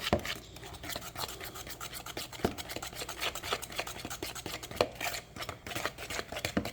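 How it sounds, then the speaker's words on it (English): A spoon or whisk stirs pumpkin pie ingredients, including ginger, together in a bowl, with a steady scraping and swishing that runs throughout and picks up a few sharper clinks against the bowl. "now we're going to combine all these ingredients here"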